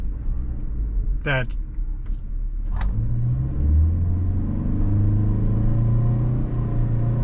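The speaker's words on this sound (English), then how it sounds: "Now in the downshift, you can hear that" A 2025 Toyota Sienna LE hybrid minivan in sport mode downshifts. A low engine drone swells and holds at a steady hum beneath someone talking, with a faint interior rumble throughout.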